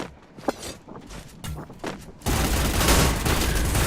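Gunfire in Free Fire during a competitive qualifier match: faint scattered shots and thuds at first, then a sudden loud, dense burst of sustained fire that carries through to the end.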